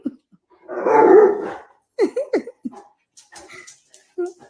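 A dog near a baby gives a short, breathy bark-like huff up close, followed by quieter snorts and sniffing sounds indoors, with bits of background voices.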